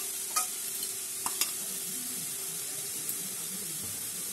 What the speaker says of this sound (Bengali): এর মধ্যে এবার দিয়ে দেবো ফ্লেমটা আস্তে করে নেবো গ্যাসের, দিয়ে দেবো সেই আদা লঙ্কার গুঁড়ো আর জিরের গুঁড়োর পেস্টটা।